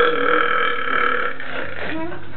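A single loud, drawn-out burp from a person, close and sustained for about two seconds, sinking in pitch and tapering toward the end.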